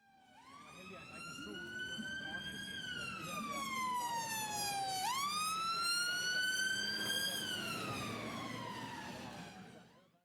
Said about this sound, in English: What you heard is the sound of the ambulance being a bit higher pitched as it approached you